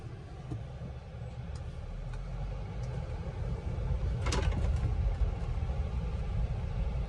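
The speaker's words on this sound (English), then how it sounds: "So guys, I'm driving the BMW right now." Interior drone of a BMW luxury car being driven, a steady low engine and road rumble with a brief clunk midway, continuous and moderately loud throughout.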